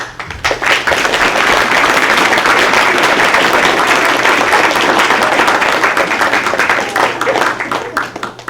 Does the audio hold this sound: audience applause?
yes